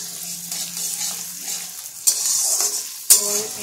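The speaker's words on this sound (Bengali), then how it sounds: "এবারে পেঁয়াজটা কিছুক্ষণ ভাজতে থাকবো, যতক্ষণ না পেঁয়াজটা একটু ভাজা ভাজা হয়ে যায়।" Sliced onions frying in oil in a pan with bay leaves, a steady close sizzle with two sharp stirring scrapes near the end and no talking.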